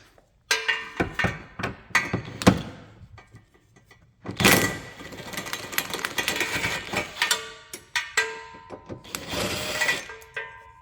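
A ratchet with a 6-inch extension and 13mm socket works bolts loose on a 2022 Dodge Charger Scat Pack during an exhaust install: bursts of rapid clicking and metallic clinks with short pauses between, close and moderately loud, no talking.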